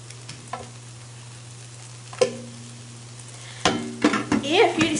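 Tortillas warming in a pan are flipped over, with a low steady hum and a few scattered taps, then a louder cluster of scraping and sizzling handling near the end.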